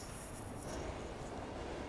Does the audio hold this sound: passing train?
yes